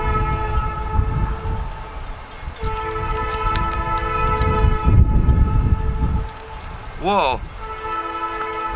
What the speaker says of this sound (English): But we do got a train.